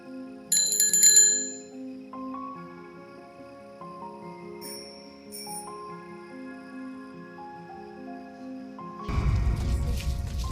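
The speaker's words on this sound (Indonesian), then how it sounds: "Setelah dengar suara kring-kring" Several bright metallic bicycle bell rings, a quick double ring early and fainter rings later, over a soft tonal background that turns noisy near the end.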